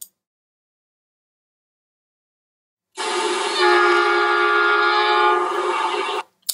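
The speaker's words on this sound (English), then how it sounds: "there is a sound of a train whistle that you'll hear on the page load" After a few seconds of silence, a loud, sustained train whistle blows for about three seconds, steady and close, then cuts off abruptly.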